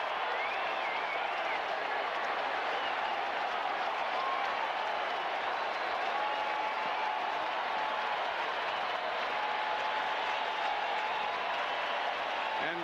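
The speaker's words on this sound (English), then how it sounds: "And all around Shea, people are standing and applauding." Baseball crowd at Shea Stadium applauding a game-tying home run, a broad, distant roar of clapping and cheering that holds steady throughout, heard faintly as from a broadcast.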